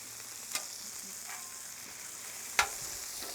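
Burger buns toast on a hot Blackstone griddle, a faint steady sizzle with a couple of brief sharp clicks or scrapes.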